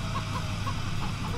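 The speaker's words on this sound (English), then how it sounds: "Oh, chickens!" Chickens in Farming Simulator 2017 clucking in short, soft repeated calls over a steady low game-engine hum.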